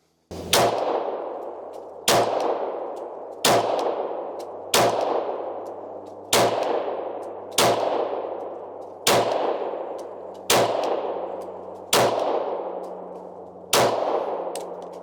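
Sig P226 pistol fired on a range, with its factory trigger: about ten sharp, loud gunshots at a steady pace of roughly one every one and a half seconds, each trailing off in a ringing decay, with no talk.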